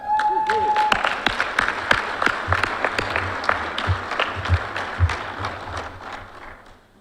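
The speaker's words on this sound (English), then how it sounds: "I'd like to just give that a round of applause." Round of applause from the audience at a fire recruit class graduation ceremony, sustained steady clapping from a large crowd, loud and close, tapering off near the end.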